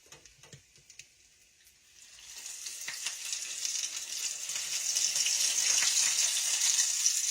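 Onion rings frying in hot oil, a soft hiss that starts low and quiet, then swells into a steady, brighter sizzle that grows louder toward the end, with no talking.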